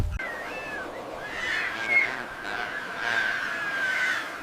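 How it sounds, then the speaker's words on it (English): High, drawn-out calls of cranes rise and waver over a soft outdoor hiss, several overlapping cries continuing steadily at a moderate distance. "The high-pitched calls of the cranes."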